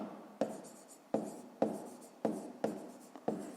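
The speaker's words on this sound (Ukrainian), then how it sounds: "або тоді пишемо зірочку" Pen strokes on paper while writing out a fifth-grade math exercise: six or seven short sharp taps and scratches in an uneven rhythm, close and quiet, with no voice.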